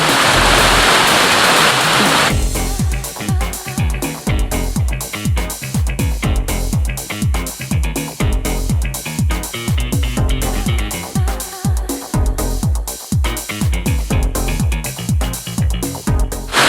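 A small tiered waterfall in a humid forest in Thailand, its water pouring in a loud, steady broadband rush that begins alone and then continues beneath a rapid, rhythmic series of sharp repeated pulses.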